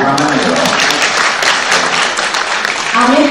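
Applause from an audience at a human rights lecture, a steady wash of clapping while voices talk over it and a speaker's voice comes through near the end.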